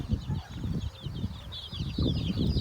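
Chickens clucking at a rural chicken farm, a busy overlapping chorus of clucks and squawks with low rustling and shuffling close by, continuous and moderately loud.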